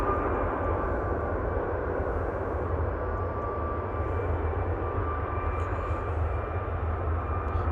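An airliner on its takeoff roll at Manchester Airport, a steady distant engine roar holding even throughout, with no one talking over it.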